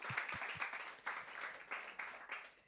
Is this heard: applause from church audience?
yes